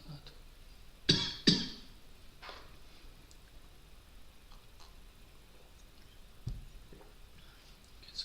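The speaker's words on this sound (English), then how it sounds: "Apologies for the cough." Two quick coughs close together, fairly near, then a softer throat sound a few seconds later in an otherwise quiet room, just after Buddhist Paritta chanting.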